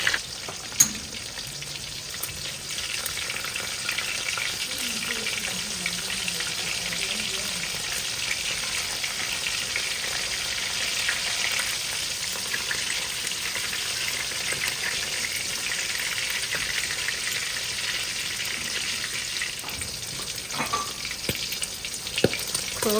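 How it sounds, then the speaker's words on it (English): Koobi, a salted fish, frying in hot oil for an eggplant stew, giving a steady, close sizzle and crackle that holds evenly throughout with no voices. "Koobi perfectly fried now."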